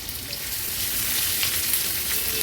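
A medium onion and four garlic cloves frying in a pan, giving a dense, even, close sizzle that holds steady throughout with no voices.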